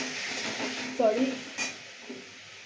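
A spoon stirs chopped tomatoes for chutney in a frying pan, giving soft scraping and a faint sizzle with a couple of brief clinks of metal on the pan, under a woman's speech.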